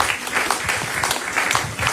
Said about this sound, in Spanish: Give God an applause.